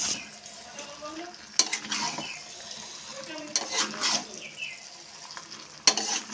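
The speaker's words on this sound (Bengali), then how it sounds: "গরম মশলা চিনি দিয়ে আবারও একটু ভালোভাবে নাড়িয়ে নেব" A jackfruit and shrimp curry is stirred in a pan after garam masala and sugar go in, with soft scraping and gentle sizzling under faint background noise and a few sharp clinks of the spoon against the pot.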